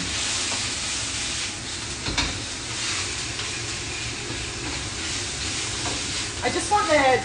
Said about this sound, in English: Pork goes in.